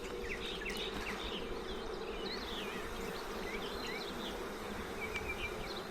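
Honeybees buzzing steadily at a hive during an inspection, a dense continuous drone with scattered birdsong in the background and no voices.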